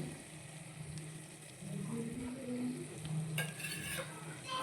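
Egg curry with spring onion and potato sizzles gently in a pan as a utensil stirs and spreads it, soft scraping strokes over a low steady frying hiss, fairly quiet and close.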